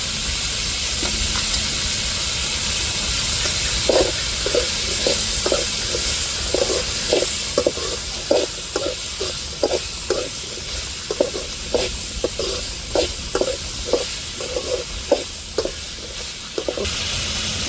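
Cauliflower sizzles in a hot frying pan with a steady hiss, while a spoon scrapes and stirs in quick rhythmic strokes through the middle of the stretch, close and fairly loud.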